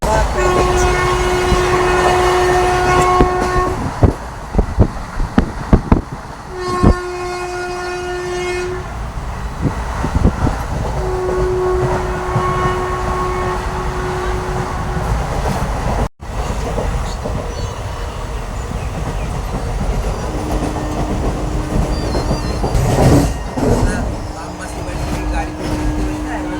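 Train running along the tracks with steady rumbling and several long, sustained horn blasts, some repeated, heard up close, with people talking now and then.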